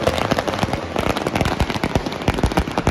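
Diwali firecrackers go off in a loud, continuous barrage of overlapping cracks and bangs, dense and close throughout.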